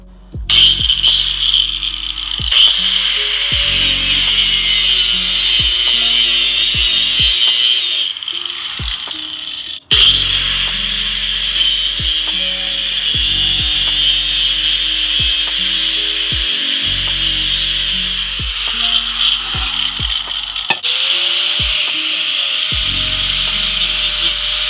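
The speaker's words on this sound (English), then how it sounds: "Use the grinder." Angle grinder cutting into a go-kart tire, a loud sustained high whine running almost continuously with a brief stop midway and small pitch dips as the disc bites.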